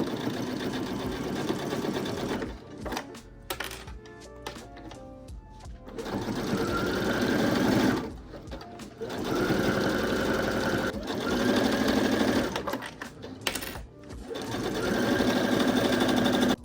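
A sewing machine stitches a denim trench coat sleeve in several steady running bursts, a fast even whir broken by short pauses between seams.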